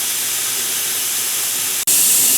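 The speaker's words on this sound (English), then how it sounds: "we now have a steady stream of steam that's been going for 10 minutes" A pressure cooker making beef bone broth hisses with a loud, continuous jet of steam that cuts out for an instant and then resumes even louder and brighter.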